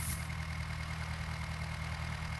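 Steady low tractor engine drone from the Indian Tractor Driving 3D video game, an even idling rumble that holds constant throughout with no talk over it.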